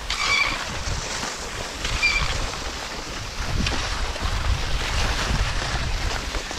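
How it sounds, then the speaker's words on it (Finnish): Steady broadband wind roars across an open microphone on the fell top of Kaunispää, Saariselkä, in freezing conditions, gusting stronger in the second half, with no talking. "Ja täällä rupeaa tuuli käymään kyllä."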